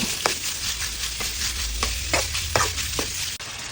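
Pork neck stir-fried with curry paste in hot oil: a steady, moderate sizzle with repeated scraping strokes of a spatula against the pan at irregular intervals, no voices.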